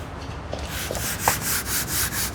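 Steady rubbing and whirring of a polishing machine working car paint, close and continuous, with faint periodic swishes.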